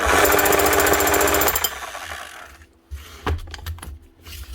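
A Makita HM0860C electric chipping hammer with a burnt-out motor runs with a loud, continuous rattle for about a second and a half, then cuts out, leaving a few sharp knocks and clatters.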